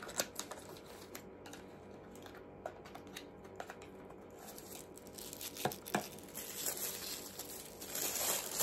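Pink paper wrapping on an advent calendar gift being torn open, close crinkling and ripping in irregular bursts that grow busier toward the end, with no talking.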